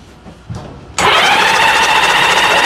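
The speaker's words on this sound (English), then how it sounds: "It's cranking really good without spark plugs in it." A vintage Honda Goldwing motorcycle engine cranks with its spark plugs removed. After a second of near quiet, a loud, steady starter-driven whir starts suddenly and runs evenly to the end.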